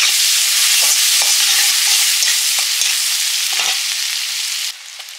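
Chopped onion fries in hot oil for a prawn curry, a bright steady sizzle up close with soft scraping stirs throughout, easing slightly near the end, with no talking.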